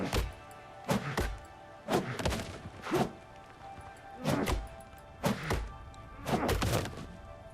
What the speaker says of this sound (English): Let's destroy this tent.